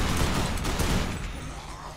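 Sustained automatic machine gun fire in the zombie video game Dead Island, a loud dense rattling burst that runs continuously for two seconds with no pauses.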